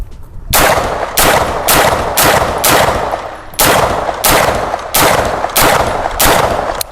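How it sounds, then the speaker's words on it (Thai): Sig Sauer MPX submachine gun firing a string of about nine loud, close shots in steady succession, each sharp report ringing briefly before the next, with no talk. "เดี๋ยวลองกลุ่มกระสุนให้ดูนะ"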